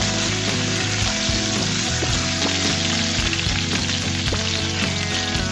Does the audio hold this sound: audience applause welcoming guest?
no